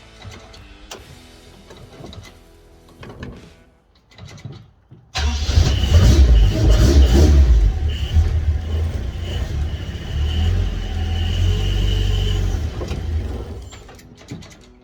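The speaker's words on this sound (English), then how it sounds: "So I'm going to try and reverse backwards and then try and make it to that concrete over there" A Toyota KE10 Corolla engine starts up after quiet shuffling and runs loudly and steadily while the car reverses out of a shed, its note rising and dipping with throttle.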